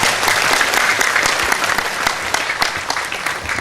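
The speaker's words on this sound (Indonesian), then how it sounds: "tepuk tangan lumayan" Audience applause at a Sinau Bareng religious gathering with Kiai Kanjeng in Banyumudal, Pemalang: steady, dense clapping from a crowd, fairly loud and continuous throughout.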